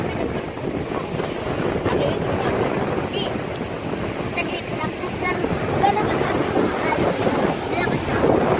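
Sea waves wash steadily onto the shore at Baler beach, a continuous broad surf roar mixed with heavy wind buffeting the microphone, loud and unbroken throughout.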